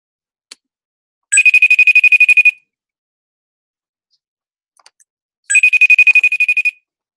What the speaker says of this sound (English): My brother trying to FaceTime me.